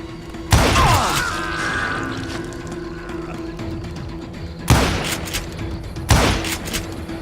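Sharp gunshots from Call of Juarez Gunslinger ring out loud and close, one at the start and two more later in the game's western shootout, each leaving a metallic ringing tail and mechanical clicks between.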